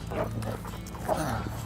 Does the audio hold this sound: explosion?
no